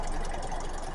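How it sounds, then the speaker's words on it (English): Kia K4 with a 2.0 Smart Stream MPI engine idling under the hood, a brief close, steady mechanical hum with fine rapid valve-train ticking. "The valve train on this is a little bit loud"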